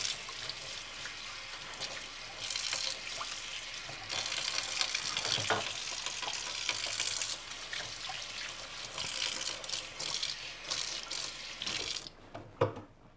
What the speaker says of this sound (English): So I'm going to set this aside right now and get this hand washed off.